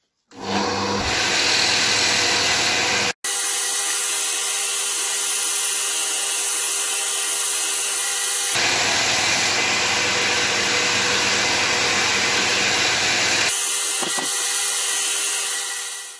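A loud, steady whir of a power sander grinding the sides of a figured jarrah wood pendant, running continuously with two brief pauses, no voices.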